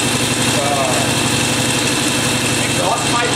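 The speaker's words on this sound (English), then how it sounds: "keep it to the gas until it starts to get warm enough that it can idle" A Norton motorcycle engine warms up and idles in a closed garage, a loud, steady close-up drone with a slight rhythmic pulse, while someone talks over it.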